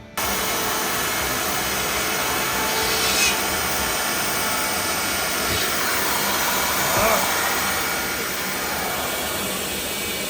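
A power tool cuts back a drywall corner during a kitchen remodel, a steady, loud whirring buzz that holds almost unchanged for the whole stretch, with slight swells as the cut bites.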